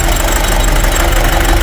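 A Nissan Urvan engine runs steadily just after a general overhaul, a loud, dense idle with a constant knocking, vibrating rumble throughout and no talking.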